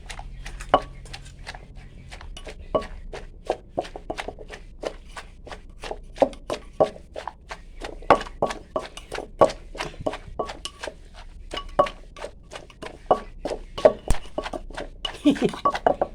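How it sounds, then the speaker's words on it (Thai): Traditional Thai papaya salad (som tam) being pounded in a mortar, a long run of steady, sharp knocking strikes at a brisk, slightly uneven rhythm, close and clear, with occasional clinks and quiet voices in the background. "ตำส้มตำพื้นบ้านนะทุกคน"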